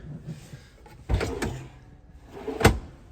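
Magnetic-latch cabinet doors in a Promaster campervan build swing shut in two quick knocks, one around the middle and a sharper one near the end, close and fairly loud in a quiet interior.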